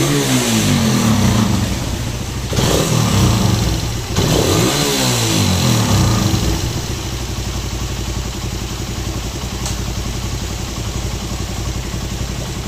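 A motorcycle engine with 34,000 km on it and a scored cam and faulty tappet revs loudly up and down a few times, then settles into a steady rumbling idle.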